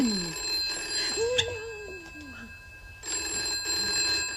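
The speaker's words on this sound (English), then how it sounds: "Phone!" An old telephone bell rings in a 1970 home setting, two bursts of steady metallic trilling separated by a pause, with a voice-like sliding tone over the first ring.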